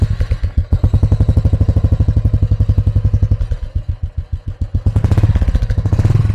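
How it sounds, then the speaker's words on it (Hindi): A Royal Enfield Thunderbird 350 motorcycle idles close by, its single-cylinder exhaust thumping in a loud, steady, rapid beat, with a brief revving swell near the end. "इसका साउंड जो टोटली जो आपको फील कराएगा दैट इज़ रॉयल इनफील्ड का जो बिल्कुल सिग्नेचर साउंड होता है वो होगा।"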